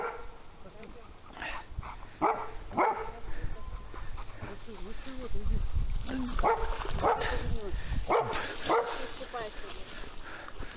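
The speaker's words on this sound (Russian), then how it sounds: "Ребята с собаками" Several dogs bark and yip repeatedly outdoors beside a muddy stream trail on a bike trip, fairly close and intermittent, with people talking over and between the barks.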